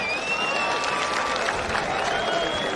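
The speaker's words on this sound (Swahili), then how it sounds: "mpige makofi ya Bridget Kosgei, makofi." Steady applause from a crowd, a dense even patter of clapping held at a constant level throughout, with a faint tone running underneath.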